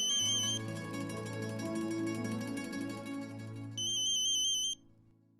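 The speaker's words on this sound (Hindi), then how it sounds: "आपका फोन बज रहा है।" A phone rings with an electronic ringtone, repeating tones and a sustained melodic pattern that plays steadily for about five seconds before cutting off, with no talking.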